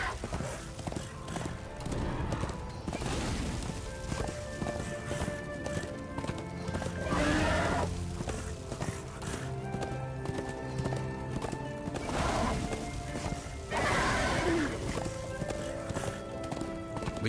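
In the video game Darksiders 2, a horse's hooves clip-clop in a steady galloping rhythm over game music, with a couple of loud neighs and whinnies breaking through, close and clear.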